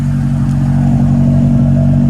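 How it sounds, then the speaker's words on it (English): A B-series engine with a 4-2-1 header idling and revving, a loud, steady, low exhaust drone up close. "Feel that exhaust coming out of there now"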